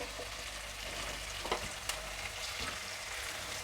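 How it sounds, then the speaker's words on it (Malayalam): Onions fry toward brown in a pan, a soft, steady sizzle with a couple of faint clicks of stirring, quiet and unbroken throughout. "സവാള നന്നായി ബ്രൗൺ നിറാവണം കേട്ടോ അത് വരെ വെയിറ്റ് ചെയ്യണം നമുക്ക്"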